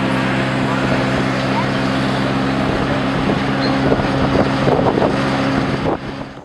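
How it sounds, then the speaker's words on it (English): A tractor pulls a tour ride at a Civil War weekend event, its engine giving a steady, close low drone with wind buffeting the microphone and faint voices underneath. "Estamos en un recorrido, avalados por un tractor."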